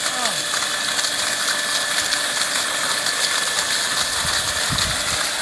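A bore well water pump motor runs with a loud, steady mechanical drone and a faint rattling texture, continuous from start to finish.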